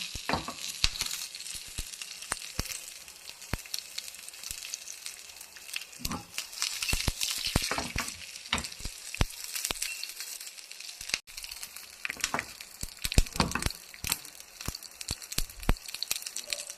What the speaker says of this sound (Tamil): கடுகு நல்லா பொரியட்டோங்க.